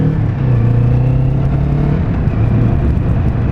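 A Kawasaki Vulcan S motorcycle engine runs steadily and loud with a low, continuous drone and rumble throughout, the pitch holding even with a slight dip and rise near the end, no talking.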